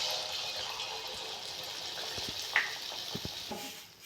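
Pumpkin flower fritters deep frying in hot oil, a steady soft sizzle and bubbling throughout with a few small clinks and taps near the end.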